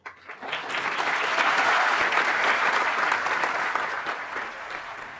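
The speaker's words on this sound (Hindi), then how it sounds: "अब जब मैंने ये बोला, आपने तालियां बजाई" A large indoor audience claps in sustained, dense applause that swells quickly and holds steady for several seconds before tapering slightly, with no talking over it.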